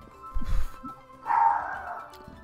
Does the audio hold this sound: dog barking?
yes